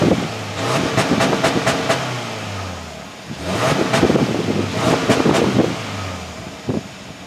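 A 2024 Subaru Crosstrek 2.0i S exhaust revs in two bursts, the engine climbing and falling in pitch each time before settling back to idle, close and loud.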